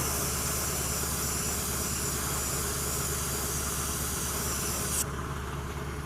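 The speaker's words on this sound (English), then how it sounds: "We're just going to dry spray to kind of flatten out the finish." A spray gun lightly dusting black paint onto a Hyundai Santa Fe wheel during curb rash repair, a constant close airy hiss that shifts slightly near the end.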